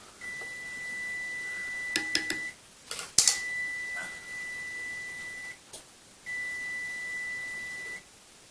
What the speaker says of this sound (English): My timer on my oven, cooking cheese sticks